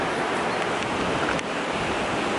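A waterfall in Szklarska Poręba pours with a steady, loud, close rushing roar that fills the whole clip without a break.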